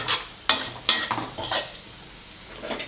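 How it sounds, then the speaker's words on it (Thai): Chili stir-frying with pumpkin and pork in a pan, a low sizzle broken by several sharp scraping strokes of a spatula at irregular intervals, close and without talk. "เสร็จแล้วก็จะใส่พริกนะครับ แล้วก็ผัดสักครู่หนึ่ง ให้มันหอม"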